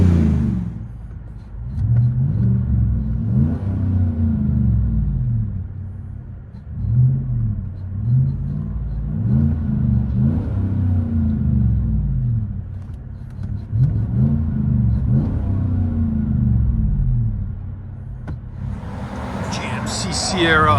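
2016 GMC Sierra Denali pickup, 6.2L V8 with a Borla Pro-XS muffler, heard from inside the cab as repeated throttle blips rise and fall in a deep rumbling revs, loud and close, with a brief sharp noise at the end.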